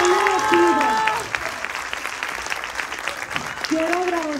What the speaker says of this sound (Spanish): Un fuerte aplauso a las maestras, por favor